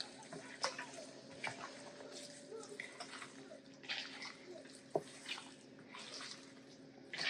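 Running tap water splashes over raw chicken thighs in a kitchen sink, a steady close wash with scattered drips and brief splashy bursts.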